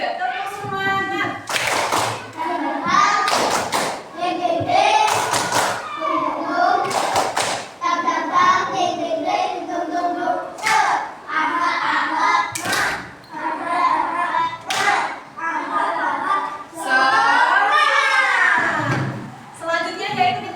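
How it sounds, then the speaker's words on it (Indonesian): Bursts of sharp group hand clapping in quick patterned runs by a class of schoolchildren, alternating with children's voices chanting and talking between the claps. "Selanjutnya kita tepuk semangat dulu yuk."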